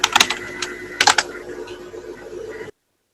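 Computer keyboard keys typed in quick bursts, a brief cluster at the start and another after a pause, up close and clear, then the sound stops.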